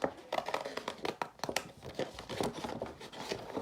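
Sharp scissors snip steadily through paper to cut out a simple picture, a rapid series of close crisp crinkling cuts with no talking.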